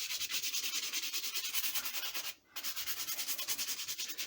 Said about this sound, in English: we're going to brush the spine